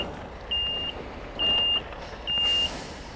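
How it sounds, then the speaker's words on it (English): A lorry backs up with its reversing alarm sounding three evenly spaced high beeps over a low rumble of traffic, fairly close and clear against the background. "I just had a lorry come in"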